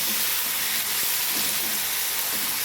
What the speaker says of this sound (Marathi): तेलाव हा बटाटा छान परतून घ्यायचा आहे